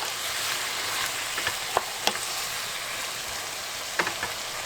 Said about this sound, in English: Let me just stir this in now